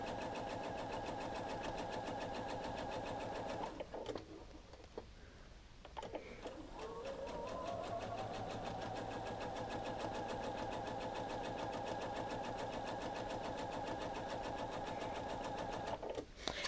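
A sewing machine stitches quilt fabric strips for a rail fence block, a fast, steady mechanical whir close by that pauses briefly partway through and then resumes at an even pace.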